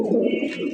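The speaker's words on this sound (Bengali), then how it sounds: "খুবই বড় সাইজের আর খুবই অ্যাক্টিভ কবুতর জোড়াটা" A large, active pair of fancy racer Golla pigeons gives a short, close, soft coo, heard alone.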